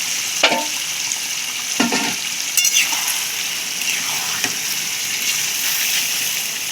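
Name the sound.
chicken pieces frying in pan for biryani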